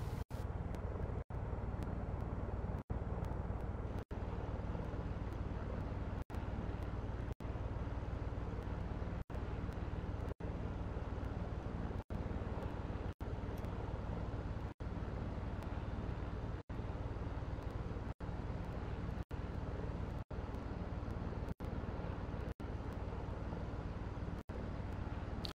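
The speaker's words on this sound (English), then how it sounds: "hopefully you can hear the engine spooling up" Airbus A319 jet engine in a flight simulator spools up into a steady, continuous roar with dense broadband rumble, held at constant loudness throughout, with faint regular ticks repeating every second or two.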